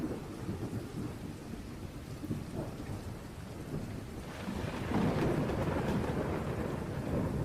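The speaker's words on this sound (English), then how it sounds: "punctuated only by the rhythmic drumming of raindrops on the roof" Steady rain drums on a surface with low thunder rumbling underneath, the downpour thickening and growing louder in the second half, with no voices.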